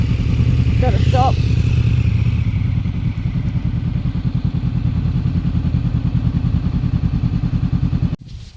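A KTM 1190 motorcycle rumbles along a country road beside the Murray River, its engine throbbing steadily and close under wind noise, with a voice speaking briefly near the start.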